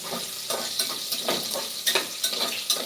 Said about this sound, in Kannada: ಈಗ ಈರುಳ್ಳಿನೇ ಚೆನ್ನಾಗಿ ಫ್ರೈ ಮಾಡ್ಕೊತೀವಿ